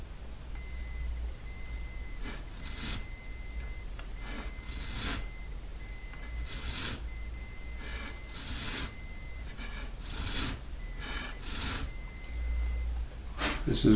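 A 1965 Martin 000-18 guitar neck being sanded by hand with a coarse sanding block, a series of short, separate rasping strokes at moderate level over a steady low background hum.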